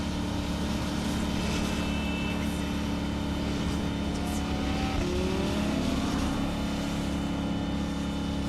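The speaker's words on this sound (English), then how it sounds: "This car is fast." A fast car's engine roars at high speed in Cyberpunk 2077, a loud continuous drone with shifting pitch sweeps that carries on without a break throughout.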